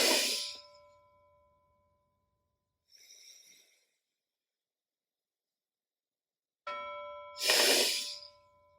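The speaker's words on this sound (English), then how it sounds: "So listen for my bell" A bell rings once with a clear, sustained tone that fades out slowly, followed by soft breathing, then a second bell strike rings out and lingers.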